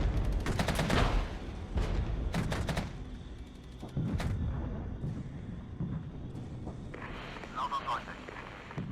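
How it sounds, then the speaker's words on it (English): Artillery barrage striking rifle infantry in the wartime strategy game Regiments: a cluster of loud, sharp blasts and crackling bursts early on, further impacts mid-clip, then a fainter rumbling tail, with speech over the action. "Called in the tactical support artillery onto these riflemen just to clear them out."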